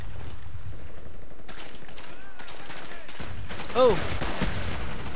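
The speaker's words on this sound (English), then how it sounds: "That was two shots." Gunfire from an M14 rifle in the Black Ops video game, a few sharp game shots over a noisy battlefield background, with a player's brief exclamation in the clip.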